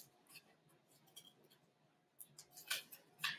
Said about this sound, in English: I'm going to cut out triangles from this one.